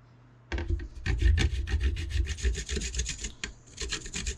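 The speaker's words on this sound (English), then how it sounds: "I like to take the pastel, go back and forth just like that" A pastel stick is rubbed back and forth to grind weathering powder for scale models. It makes close, steady, rhythmic scraping strokes that start after a brief quiet moment and continue without pause.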